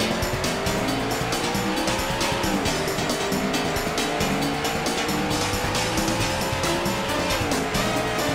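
Race cars roar through a lap in the Daytona USA arcade racing game, engines whining steadily with rising and falling pitch as gears shift, tires squealing and skidding over a constant loud mix.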